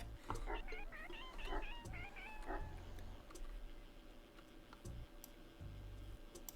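A cartoonish cat meows in the video game Webfishing, a quick run of chirpy meows and caterwauls over light ticking and typing-like clicks, followed by quieter game ambience.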